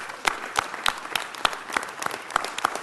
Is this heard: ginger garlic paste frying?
no